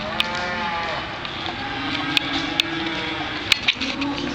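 Cattle at a sale barn where feeder cattle and cows are unloaded from gooseneck trailers, with a low sustained moo-like call among steady pen noise and a few sharp metallic clanks.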